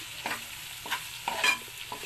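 Kasuri methi is stirred into chicken sukka gravy in a pan, with a few distinct scraping strokes of a spatula over a soft, low sizzle.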